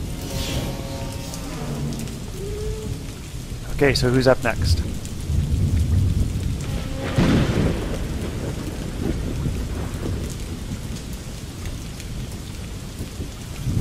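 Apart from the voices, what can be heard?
rain falling and thunderstorm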